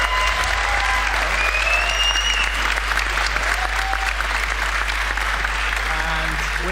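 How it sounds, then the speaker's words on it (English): Steady, full crowd applause at a TI9 Dota 2 event, honouring two-time champion players: dense, even clapping sustained throughout over a constant low hum, with faint voices and whistles mixed into the roar. "So give him please a round of applause."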